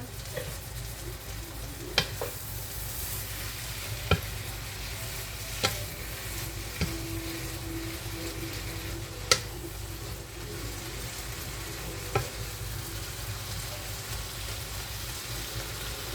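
Green beans stirred in a pan with a wooden spoon, a steady low frying sizzle throughout with a few distinct spoon knocks and scrapes spaced every couple of seconds, close and with no talking.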